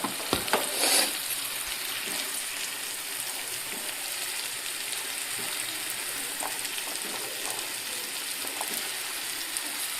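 Tomato pieces fry in a pan with a constant soft sizzle and crackle. A brief clatter near the start fits crushed ginger-garlic being tipped in and stirred. The sound is close and quiet, with no one speaking.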